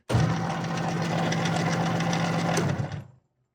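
A Baum 714 Ultrafold air feed paper folder runs steadily at a slow speed, a loud, even mechanical hum and rapid clatter that stops abruptly near the end.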